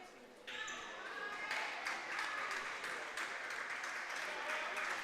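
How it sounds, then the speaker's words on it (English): Crowd applause from basketball fans fills a high school gym at a girls' basketball game, a steady wash of clapping and cheering that swells after a short quiet moment and carries on throughout. "North fans applauding"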